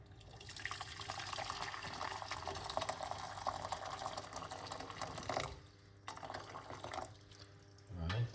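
Hot water streams steadily into a cup with a broad splashing rush that cuts off briefly, then resumes more faintly.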